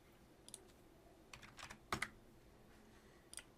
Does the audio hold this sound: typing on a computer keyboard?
yes